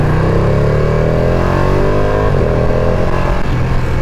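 A Ducati Panigale V2 with its Super Quadro twin engine pulls hard on a test ride, a loud, close, continuous exhaust roar whose pitch climbs steadily through the gears with a brief dip at a shift.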